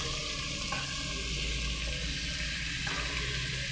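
Broad beans fry with softened onions in a pan, producing a continuous even sizzle at close range with faint stirring shifts, no talk.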